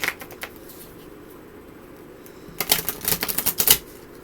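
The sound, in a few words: shuffling a new deck of cards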